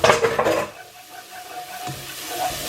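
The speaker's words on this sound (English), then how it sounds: "Stir in the garlic ginger paste" A brief clatter of a utensil against a pan, then a soft sizzle of garlic ginger paste cooking on minimum heat for a lemon chicken curry, close and fairly quiet.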